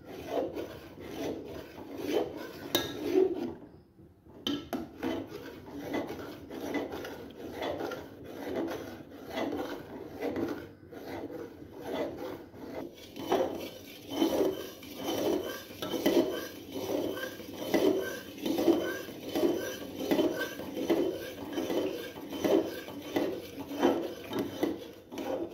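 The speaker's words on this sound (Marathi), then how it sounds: "सतत असं ढवळत राहायचं आपल्याला." Milk is stirred continuously in a pan while it thickens into khoa: steady, rhythmic scraping strokes rasp against the pan up close, with one brief pause early on.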